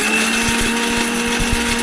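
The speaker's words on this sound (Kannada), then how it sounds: "ಮಿಕ್ಸಿ ಜಾರಿಗೆ ಸೇರಿಸ್ಕೊಂಡು ನೀಟಾಗಿ ಪೌಡ್ರ್ ಮಾಡ್ಕೊಳ್ಳೋಣ" A mixie grinder runs steadily, its motor whirring loudly and continuously as it powders roasted ingredients for doddapatre puliyogare, with faint rhythmic knocking from the jar contents.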